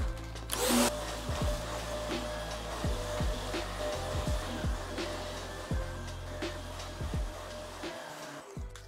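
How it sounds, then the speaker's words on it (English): A vacuum cleaner running steadily over a carpet, a continuous close whine and roar with rhythmic bumps and pitch dips as it is pushed back and forth. "we're going to go ahead and vacuum the rooms, the area that's going to be cleaned"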